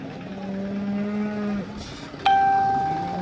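Cows low loudly at a busy cattle market in Modnimb, two close drawn-out moos in quick succession, the second rising sharply and ringing on.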